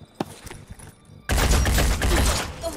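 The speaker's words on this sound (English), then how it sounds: "We, however, are just going to take a normal shot for the moment." A gunshot bursts out in the Phoenix Point strategy game, followed by a loud sustained roar of gunfire that drowns out the faint clicks and small sounds before it.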